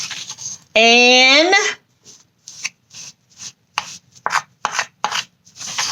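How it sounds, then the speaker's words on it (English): Food coloring is stirred into a faux pepperoni pizza dough mixture with a series of rhythmic, close scraping and rubbing strokes, preceded by a brief spoken word. "now I'm going to stir this up really well. I got my coloring in there"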